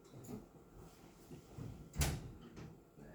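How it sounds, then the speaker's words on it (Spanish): A door is opened partway in an ophthalmology practice room, giving a short, fairly loud creak or bump about two seconds in, with low room noise and faint rustling around it. "Abrir un poco la puerta."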